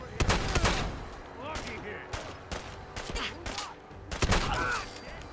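Gunfire in Fallout 4: repeated sharp shots and short bursts spread across the clip, some loud and close, others fainter, with faint game sounds between them.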